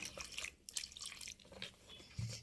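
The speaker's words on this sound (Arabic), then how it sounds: "نحط بقى شويه ميه دافيين" Warm water is poured from a container onto flour, yeast and sugar for a crunchy dough, with soft, close splashing and dripping in short uneven bursts, quiet and with no talk.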